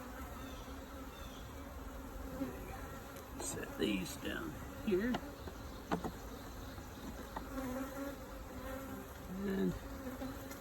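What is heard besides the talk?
bees buzzing during a hive inspection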